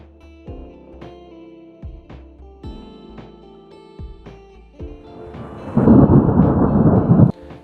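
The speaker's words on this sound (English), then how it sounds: "select storm, then I'm gonna choose the thunderstorm" A thunderstorm effect from a mobile video editor plays over soft background music, starting with low rumbling and swelling into a loud, dense roll of thunder with rain-like hiss for about two seconds before cutting off.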